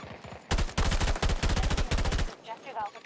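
AM40 assault rifle fire in Battlefield 2042, a rapid automatic burst of close, loud shots in quick succession, then a short gap and scattered game noise after.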